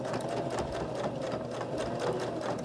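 A sewing machine stitches fabric for a small lip balm keychain holder, running with a steady, fast mechanical whir and rapid needle chatter, close and continuous.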